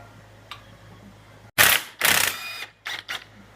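Ratchet on a bolt of a corroded Honda Grom engine, a few close, loud bursts of clicking, the longest about half a second, then two short quick ones, with quiet between them.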